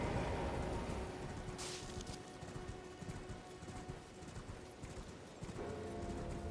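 Horse hooves clip-clop steadily in the Elden Ring video game, a continuous trotting rhythm under a dense ambient game soundscape with a faint neigh-like cue.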